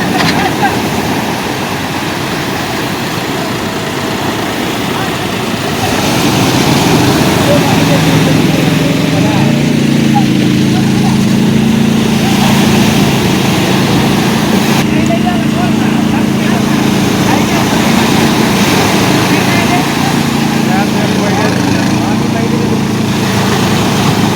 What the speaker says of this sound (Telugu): ఈ విధంగా బోట్ను సముద్రంలోకి ట్రాక్టర్ సాయంతో నెడతారు